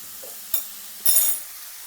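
Onions sautéing with salt in a pan for a Kerala crab roast, with two short bursts of sizzle and stirring over a quiet background, the second one louder and longer.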